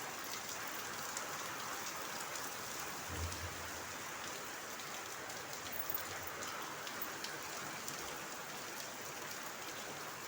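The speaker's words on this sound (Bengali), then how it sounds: "সকাল সকালই বৃষ্টি শুরু হয়ে গেল" Steady rain falls throughout, a dense continuous patter of drops on surfaces, with no voices.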